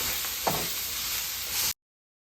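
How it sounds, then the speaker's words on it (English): Soft scraping and sizzling as chopped vegetables are stirred into a hot gumbo roux. A steady frying hiss runs throughout, broken by one brief spoon scrape near the start, and then the sound cuts off abruptly. "So you're going to mix that in with the roux."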